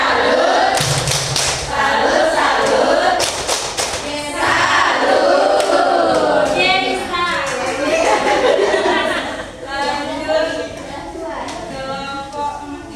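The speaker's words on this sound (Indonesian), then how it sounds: "Kita kasih tepuk salut." A group in an Indonesian school teachers' session gives a rhythmic 'tepuk salut' clap, with sharp claps and thuds mixed with voices chanting and chattering throughout, fairly loud and close.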